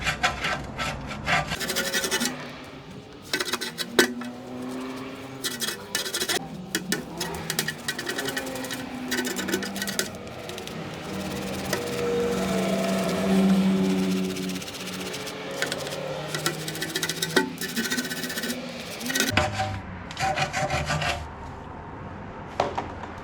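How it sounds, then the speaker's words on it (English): A wheel brush scrubs a car wheel during detailing, giving a close, steady, rasping scrub that continues almost unbroken with rhythmic pulses and no talking. "Take a wheel brush. Go to town."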